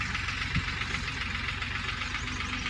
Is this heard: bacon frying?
no